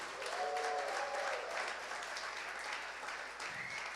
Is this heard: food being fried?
no